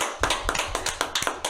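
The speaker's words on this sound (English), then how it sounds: "Let's have another round of applause for the mysterious stranger." A few people clapping in a video game scene, sparse irregular hand claps spaced a fraction of a second apart, fairly close and light, with no voices over them.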